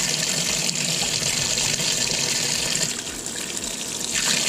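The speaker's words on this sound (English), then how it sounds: "now it's filling back up for the rinse cycle" A washing machine fills with water for the rinse cycle of a cloth diaper load, a steady rushing gush that runs continuously and fairly loud with no voices.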